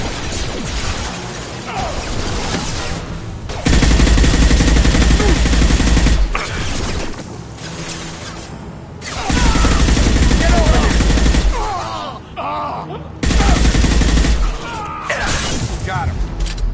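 Gunfire in the video game Mass Effect 2 comes as loud sustained bursts of weapon fire and crashing impacts. Battle noise and music surge on and off, and voices speak in between.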